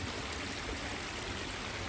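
Steady, dense rush of water flowing over bare rock after heavy rain around a pond, a continuous broadband wash with no breaks, moderately distant and without voices.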